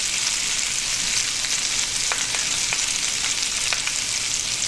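Food fries in a pan while being stirred, a constant bright sizzle with occasional small pops and crackles, close and steady throughout.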